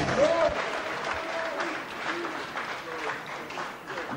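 An audience claps and cheers at a French-speaking religious gathering, a steady wash of applause with scattered shouts that continues throughout, fairly distant, with voices mixed in.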